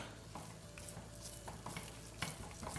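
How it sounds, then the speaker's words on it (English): A spoon stirs a thick, melting marshmallow mixture for raspberry ripple marshmallows in a pan, giving soft, quiet scraping and a faint sizzle, with small clicks against the pan and no talk. "You just need to keep stirring it at this"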